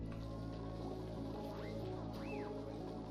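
Water dripping from a leak in the game Oxygen Not Included, a couple of soft, distinct drips over a steady low hum, with no talking.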